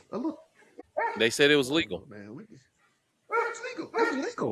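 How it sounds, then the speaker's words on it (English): A dog barks repeatedly in short bursts close by, mixed in with someone talking throughout; the barks land between and under his speech. "Y'all gotta excuse my dog with all his barking."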